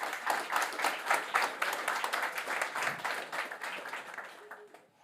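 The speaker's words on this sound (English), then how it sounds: "A round of applause" A small conference audience at a whisky forum claps for an incoming presenter, the distinct handclaps fairly quiet and a little distant before fading out near the end.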